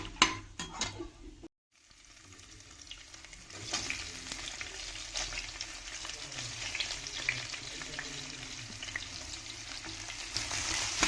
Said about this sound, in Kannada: ಸ್ವಲ್ಪ ಜೀರಿಗೆ ಚಟಾಪಟ ಅಂತಂದಮೇಲೆ ಗೋಡಂಬಿನೂ ಸ್ವಲ್ಪ ಹೊಂಬಣ್ಣ ಬರೋ ತನಕ ಫ್ರೈ